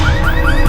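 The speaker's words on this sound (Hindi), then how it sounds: "वो गाड़ी का अलार्म बज रहा है।" A green Volkswagen car alarm wails close and loud with repeated rising electronic sweeps that cycle through a brief burst.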